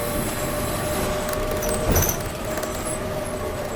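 A ride aboard the San Francisco No. 1 trolley bus heading uphill toward the California Line cable car terminus, with a steady interior rumble and hum, faint squeals and a brief louder clunk midway.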